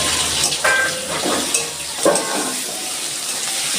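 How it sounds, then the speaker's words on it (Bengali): Onions with garlic cloves, lightly salted and with a little turmeric, frying steadily in a pan: a continuous close hiss and sizzle with occasional stirring scrapes, no voices. "দেখুন আমার পেঁয়াজটা সুন্দর ভাজা হয়ে গেছে।"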